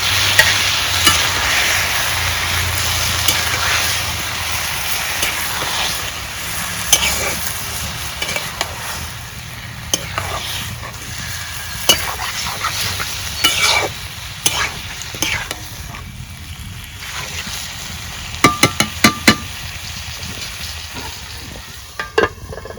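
Beef sizzles steadily in a pan as it is sautéed for homemade biryani, a continuous frying hiss broken by repeated sharp spatula scrapes and clinks against the metal, with no talking.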